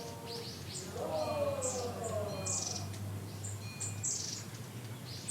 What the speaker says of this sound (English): Birds giddily chirping. It sounded exactly like this.